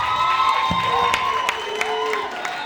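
Audience at a youth jazz concert on an outdoor festival stage cheers and applauds the performers, a loud continuous wash of claps, whoops and shouts with tonal whistles and calls riding on top throughout.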